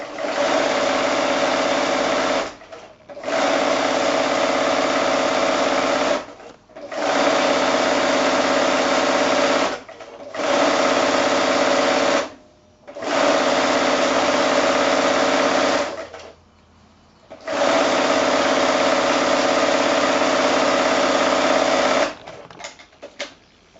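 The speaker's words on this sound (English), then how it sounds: "I'm going to take those over to the sewing machine" A sewing machine runs in steady bursts of rapid stitching, joining pairs of quilting fabric strips, stopping briefly between each run, close and loud with no talking.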